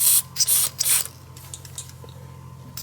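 Knock'er Loose penetrating oil sprayed onto small nuts and bolts on a DeLorean during a cooling fan and shroud install: three quick, close hissing bursts in a row, followed by quieter handling noises.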